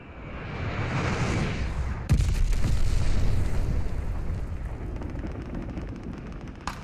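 A glide bomb blast in the Arms Race video game, a sudden loud boom that breaks over a steady roaring rumble and then fades into lingering crackling debris.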